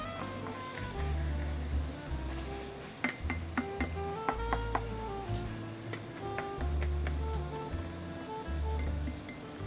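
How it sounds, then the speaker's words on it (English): Veal mince fries in its own fat in a pan for a bone marrow bolognese, a soft steady sizzle broken by occasional scraping stirs and clinks of the utensil against the pan. "It's all frying now in its own fat."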